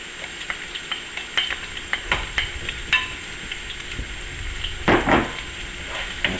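Green pepper and celery sizzling in a saucy pan, a continuous close fry hiss broken by repeated scraping stirs and clacks of the utensil against the pan, loud and without talk.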